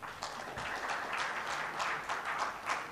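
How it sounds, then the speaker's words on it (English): An audience at a technology leadership summit applauds a speaker being welcomed, a steady wash of many hands clapping at moderate volume, heard alone without talk. "So we welcome you with a huge round of applause."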